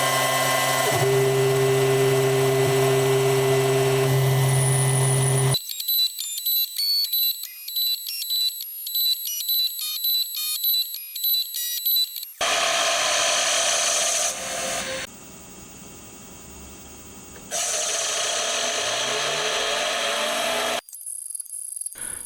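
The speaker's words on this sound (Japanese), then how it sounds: "今回はもうこのままセンタードリルいきます。" A center drill spins in a milling machine, cutting into a metal cover part for a four-cylinder conversion of a Honda Monkey engine. Loud, steady whining tones run in separate passages with abrupt changes in pitch between them.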